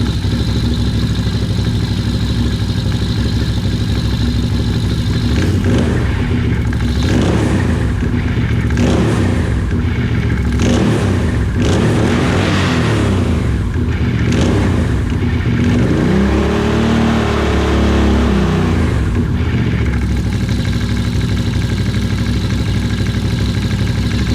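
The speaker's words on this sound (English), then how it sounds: "I'm gonna go idle it up and you're gonna see the clutch engage" A Can-Am off-road vehicle with a newly installed Dalton clutch kit runs steadily, then revs up repeatedly in rising surges while the clutch engages, the engine loud and close throughout with a low droning undertone and no speech.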